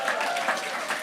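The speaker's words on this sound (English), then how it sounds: "Give yourself a round of applause." Audience applause at a spoken-word poetry show, a brief, steady wash of many hands clapping at once.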